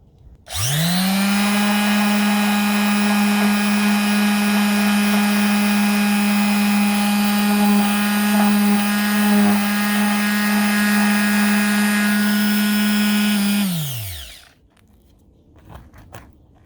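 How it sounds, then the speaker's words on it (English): A power sander gives a steady, loud motorized whine with a strong hum as it sands a surface for about thirteen seconds, then winds down and stops, leaving near silence. "I'm sanding some of those spots down"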